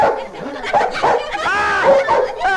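Dog barking and yelping in an Indian dubbed movie scene, several sharp barks mixed with excited voices and shouting over a noisy, busy soundtrack.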